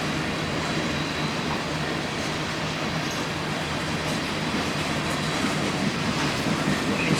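A heavily loaded freight train of over 15,000 tons hauling New York City trash, with cars over 100 tons each, rumbles past close by in a steady, dense roar of rolling wagons and faint clatter, no voices.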